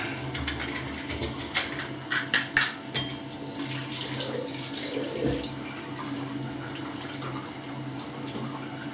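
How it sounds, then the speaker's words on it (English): A bathroom faucet runs steadily while hands are wetted before a wet shave, with water splashing and a few brief louder spatters as hands move under the stream. "So all I've done there is wet my hands"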